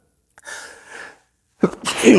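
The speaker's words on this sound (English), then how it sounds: "I don't know why I'm sneezing." A man sneezes indoors during an interview, with a short inhaled gasp followed after a pause by a loud, forceful burst.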